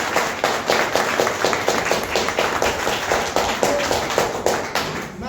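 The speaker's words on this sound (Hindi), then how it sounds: "तो महिलाओं के लिए एक जोरदार ताली हो जाए।" An audience gives a burst of loud, dense applause for the women at a network marketing business event, with steady rapid clapping running the whole time and no speech over it.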